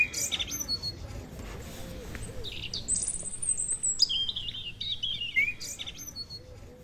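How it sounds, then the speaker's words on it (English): Blackbird singing in a garden, a series of clear fluting and warbling phrases with chirpy flourishes, moderately near, over a soft outdoor background. "The song of the blackbird makes up for it."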